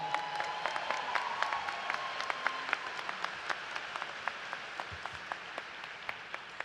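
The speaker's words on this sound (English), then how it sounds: "Let's give her a big round of applause." Commencement audience at a law school ceremony applauds the keynote speaker, steady clapping from a sizable crowd heard at some distance, fairly faint and continuous throughout.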